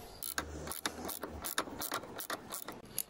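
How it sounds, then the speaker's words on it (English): A 10mm spanner working the seat bolts on a Honda NC750X motorcycle: a quick run of close ratcheting clicks in a steady rhythm, light and fairly quiet, with no speech. "With a 10mm spanner, we take off the seat by removing these two bolts"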